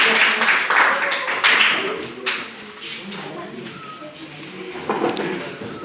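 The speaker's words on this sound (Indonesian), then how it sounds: "ayo tepuk tangan lagi" A group of people gathered at a church meeting clap for one of the groups, a short burst of scattered hand claps that fades after a couple of seconds, with a voice speaking over and after it.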